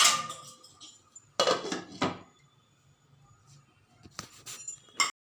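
A plate set down as a lid over a pan of semolina dough, giving several bright clinks and knocks of ceramic on metal spread out with quiet gaps, close and fairly loud.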